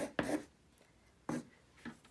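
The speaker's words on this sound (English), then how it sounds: "All right, let's get our blender pencil." A colorless blender pencil rubs over colored pencil on coloring book paper, giving soft close scratchy strokes in three short bursts with quiet gaps between.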